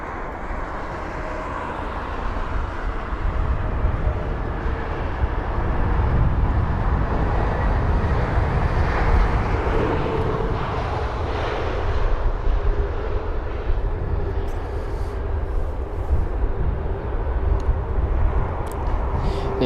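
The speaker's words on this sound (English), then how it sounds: "There you go, the A320 Neo stopping as quickly as possible." An Airbus A320neo arriving from Palermo lands at London Heathrow and brakes hard on the runway, a loud steady roar of engine noise and reverse thrust that swells and then holds, with no voices.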